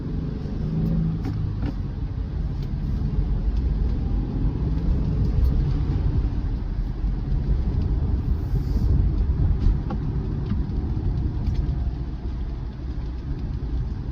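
Manual-transmission car pulling away in first gear, a steady low engine rumble and road drone rising slightly as it accelerates, close and continuous with no talk.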